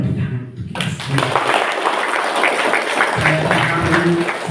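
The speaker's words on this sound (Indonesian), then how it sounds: "tepuk tangan untuk kita semua" Applause from an audience at a school book launch, a broad wash of clapping rising right after a brief quiet start and continuing steadily with some murmuring voices underneath.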